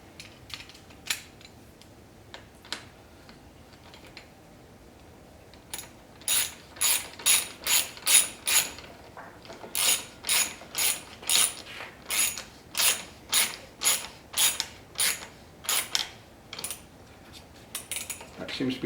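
A cheap handguard being tightened onto a motorcycle handlebar with a ratcheting tool, rapid metallic clicks in regular bursts that grow louder and more frequent partway through, close up with no talking.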